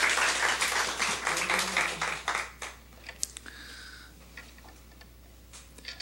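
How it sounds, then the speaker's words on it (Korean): A church congregation claps together during a Thanksgiving Sunday morning worship service. The dense, lively applause fills the room for about two seconds, then thins to a few scattered claps that fade into quiet. "우리 하나님께 영광의 박수를 한번 돌려드리겠습니다."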